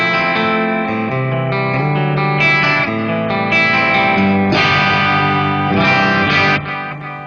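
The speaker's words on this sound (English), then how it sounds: "That's like an analog echo I've got going." An electric guitar plays through a TC Electronic Nova System multi-effects processor set to analog echo, with distorted chords and notes trailing into repeating delays, loud and steady, with no talk.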